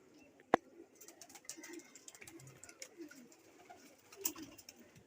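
Pigeons in a rural village coo outdoors in soft, repeated low calls, fairly faint and spread out, with a couple of sharp louder taps or flaps and light background rustle.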